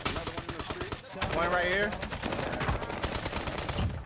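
Gunfire in Call of Duty Warzone on Rebirth Island: bursts of rapid automatic shots with sharp cracks, loud and close, mixed with in-game effects, background music and someone talking.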